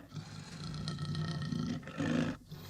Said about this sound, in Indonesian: Itu macan tahu.